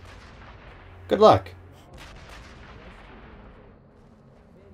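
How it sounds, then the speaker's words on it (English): A grenade explosion in the video game Sniper Elite V2: one short, heavy boom that stands out loud against a quiet background, with a faint tail afterward and a brief spoken line nearby. "Toss a grenade up there for good luck."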